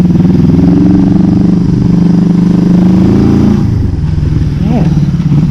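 A 1973 Honda CB250 K4 motorcycle engine runs loud and close, a steady throbbing drone that dips in pitch as it shifts, then settles into an even putter.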